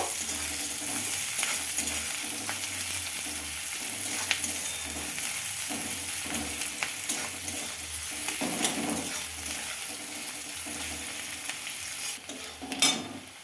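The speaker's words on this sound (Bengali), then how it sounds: "রসুন কুচি, লঙ্কা কুচি, পেঁয়াজ কুচি এই ভালো করে ভেজে নেব" Chopped garlic, chili and onion frying in a pan, a steady sizzle with occasional stirring scrapes and a brief louder clatter near the end, with no talking.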